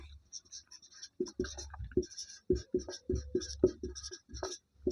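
A pen writing notes on paper, heard as a close series of short, irregular scratchy strokes with quiet voice-like murmurs mixed in between them.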